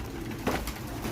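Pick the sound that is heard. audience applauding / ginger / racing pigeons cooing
racing pigeons cooing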